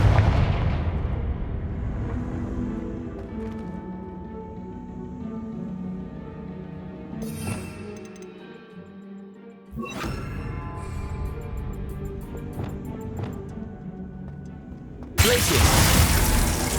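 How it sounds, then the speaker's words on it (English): Confringo fire spell cast in the Hogwarts Legacy video game: loud blasting bursts with sharp crashing impacts and rumbling decay, several hits spread across the clip amid game ambience, ending in a loud burst. "Confringo."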